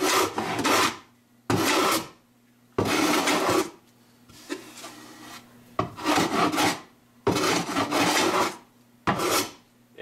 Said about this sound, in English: Edge planing plywood.